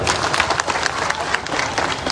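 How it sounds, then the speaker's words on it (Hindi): Crowd at an Indian political election rally applauding in a dense, continuous burst of clapping, loud and close, with faint voices mixed in. "एक बार चाहता हूँ तालियां बजाकर उनको आशीर्वाद दें।"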